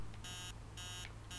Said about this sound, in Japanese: That alarm clock is so annoying.